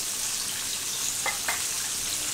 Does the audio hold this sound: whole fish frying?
yes